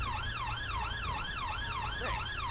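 Wailing police sirens from the GTA LSPDFR police game, a steady rising-and-falling yelp repeating about every half second, loud and close over a low engine rumble, with no voices.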